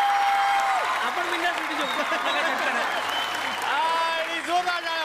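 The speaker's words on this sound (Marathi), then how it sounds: "आणि जोरदार टाळ्या प्रसाद ओकसाठी." Studio audience at a Marathi comedy show bursts into sustained applause, a dense clapping wash heard under a loud voice speaking over it throughout.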